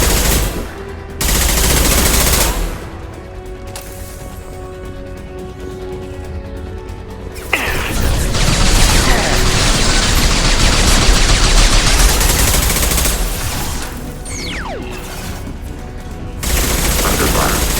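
Bursts of gunfire from a Mass Effect 2 firefight, with dense rattling volleys and sharp cracks over several seconds, loud and close, with brief quieter gaps and some talk mixed in.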